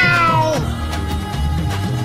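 A person imitates a cat's meow as a joke 'cat cracker' firecracker, a single drawn-out, wavering mew that slides downward, heard up close and alone.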